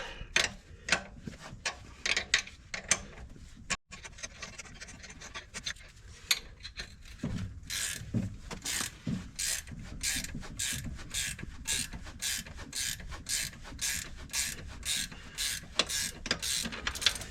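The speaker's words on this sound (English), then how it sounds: "I'm definitely getting it off the crankshaft" Metallic clicking and ratcheting as a harmonic balancer is worked off the crankshaft of a Chevy Silverado 1500, sparse clanks at first, then a fast, regular ratchet rhythm, fairly faint and close.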